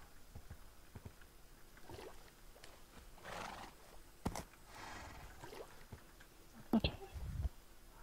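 Horses in the Minecraft video game, led through a forest toward rocky ground: several short whinnies and neighs, a louder double neigh late on, and scattered hoof clops, all fairly quiet with no talking.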